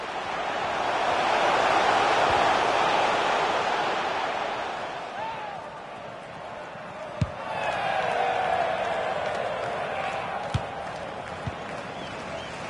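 A large stadium crowd roars in the FIFA 20 football video game, a broad swelling wash of noise rising and falling under a commentator's voice, with a few sharp knocks.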